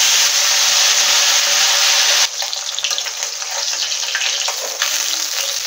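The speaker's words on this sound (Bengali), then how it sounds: "माछगुलो एबारे आमी भेजे नेब।" Rohu fish frying in hot oil in a wok, giving a loud, steady sizzle that drops slightly in intensity partway through and then carries on crackling continuously.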